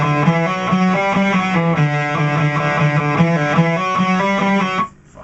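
A distorted electric guitar plays a fast, repeating riff of quick pull-offs against ringing open strings, loud and close, then stops abruptly.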